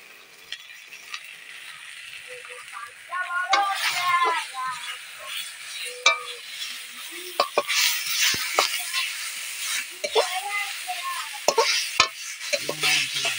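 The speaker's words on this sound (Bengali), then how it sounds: "এবারে হলুদ দিয়ে নেড়ে নেব" Turmeric being stirred into frying food in a pan for an egg curry, with a low sizzle under repeated scraping and clattering strokes of a utensil against the pan, close and steady throughout.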